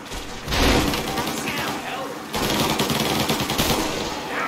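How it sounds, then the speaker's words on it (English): Loud machine-gun fire in Mafia: Definitive Edition, two sustained rattling bursts with a brief lull between them, close and dense, with a voice talking over it. "Oh, he's getting shot."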